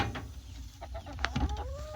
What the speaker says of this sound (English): Hey, there's some loud birdies.